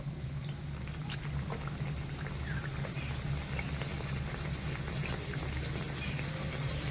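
Mughlai paratha stuffed with raw potato frying in hot oil, a quiet steady sizzle and fine bubbling crackle that continues evenly, with a low hum underneath.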